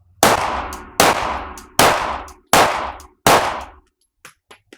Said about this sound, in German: Und dann ziehst du deine 5 Schuss durch.